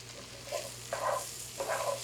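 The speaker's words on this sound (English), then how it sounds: "After a 20-minute sweat, checking and stirring occasionally" Soft sizzle from a covered pot of vegetables sweating over heat, a faint steady hiss with a few quiet scraping stirs at intervals, no talking.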